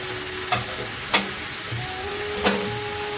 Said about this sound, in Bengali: আলু আর কুমড়ো এখানে কেটে রেখে দিয়েছি, সেটি এবার এর মধ্যে আমি মিশিয়ে দিচ্ছি।